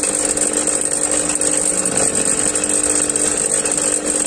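A 1/2 x 4 inch right-hand HSS lathe chisel being sharpened on a bench grinder, the motor whining steadily with a continuous grinding hiss throughout, loud and close, with no talking.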